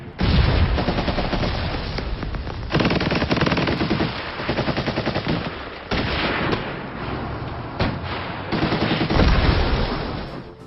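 Soldiers firing on Soviet Estonian troops: loud sustained bursts of machine-gun and rifle fire with brief gaps, dense and continuous, no talk.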